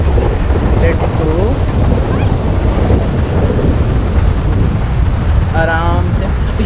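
Heavy rain and a rolling thunderstorm in the GTA 5 video game, a loud, steady broadband roar of downpour with low rumbling throughout and brief brighter chirps near the end.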